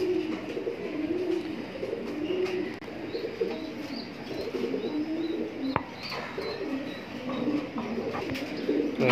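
Afshan grizzle racing pigeons coo in low, repeated, throaty calls, close by in a loft where a pair is nesting, with soft rustling and faint background sounds.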